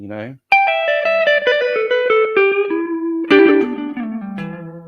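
An electric guitar with effects plays a minor pentatonic scale, a descending run of single notes, quick and clear, then rises and descends again with ringing, reverberant tones.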